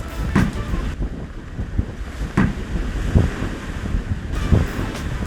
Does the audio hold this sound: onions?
no